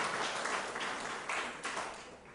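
An audience in a lecture hall breaks into applause, a dense wash of many hands clapping at once, loud at first and then gradually tapering off.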